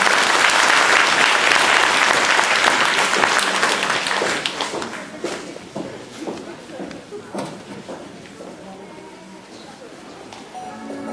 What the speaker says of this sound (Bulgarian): нека да им се насладим и да ги аплодираме при тяхните изпълнения с бурни аплодисменти